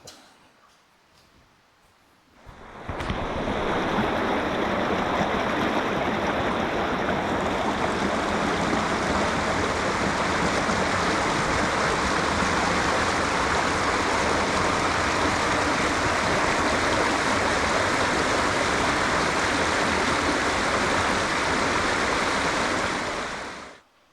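Steady, loud rushing of Agawa Creek flowing near a shoreline at Agawa Bay fills the scene without a break, a constant broad roar like a creek running close by.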